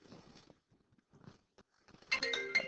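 A phone rings mid-lesson, a bright electronic chime with several tonal bursts arriving after a stretch of quiet shuffling and faint movement.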